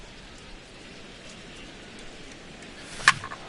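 Steady rain falling during a PS4 baseball video game broadcast, a soft continuous hiss with one brief sharp tick near the end and no talk.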